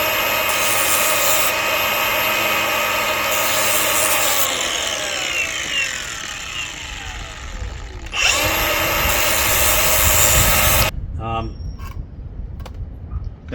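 A power tool grinds and deburrs freshly saw-cut metal, removing sharp tabs left at the bottom of the cut, with loud sustained whining bursts that rise and fall, pausing briefly near the middle before a final burst and a quiet tail.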